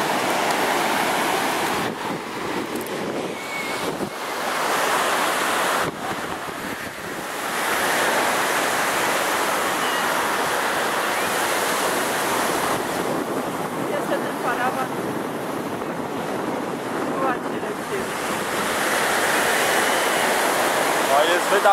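Baltic Sea waves break and wash continuously onto the shore along the Jastarnia–Hel coast, a loud, rushing surf with gusts of wind buffeting the microphone throughout.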